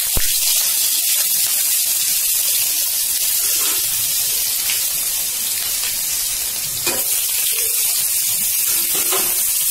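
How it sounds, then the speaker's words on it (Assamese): Onions frying in a pan with panch phoron for an aloo and papad curry, a loud continuous sizzle and hiss with occasional scraping stirs and clinks, close and unbroken with no talk. "পিঁয়াজখিনি দি মই এবাৰ ধুনীয়াকৈ লৰাই দিছোঁ এনেকৈ"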